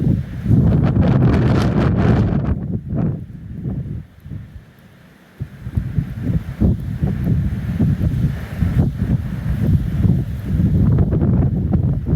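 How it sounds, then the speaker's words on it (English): Ocean surf and strong wind on a beach at morning, a loud continuous roar of waves with heavy wind buffeting the microphone, easing briefly midway before building again. "Ocean everywhere."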